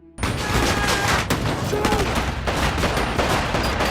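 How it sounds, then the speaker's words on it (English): Dense, continuous gunfire from a film firefight rattles nonstop for several seconds, loud and close, with overlapping bursts like a battle scene and a few voices mixed in. "A massive firefight ensues, and both DEA agents sustain gunshot wounds to their necks."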